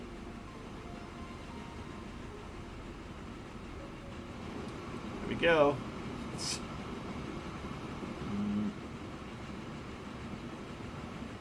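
Train rolling through switches and crossings on a modernised Midland Main Line in a railway video game, a steady low rumble with a brief louder clatter midway, and someone speaks a few words.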